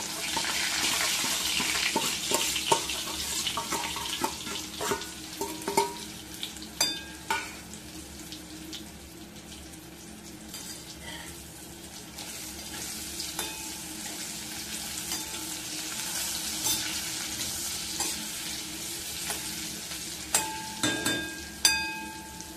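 Masala-stuffed chillies fry in a covered pan over a low gas flame, a soft steady sizzle with scattered pops and occasional clinks and scrapes, close and fairly quiet, no one speaking.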